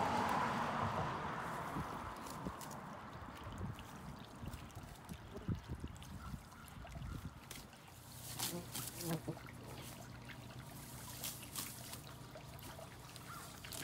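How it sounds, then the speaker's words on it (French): Water trickling steadily through a filtering marsh water garden with aquatic plants, a soft close flow that fades slightly, then picks up light splashes and gurgles, with faint voices in the background. "Puis ici, l'eau passe constamment ici, pas trop vite."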